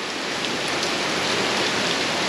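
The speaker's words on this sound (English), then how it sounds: "it started raining." Steady rain falls outdoors in a backyard at the start of the rainy season, a dense, even hiss of drops on surfaces with no breaks and no voices.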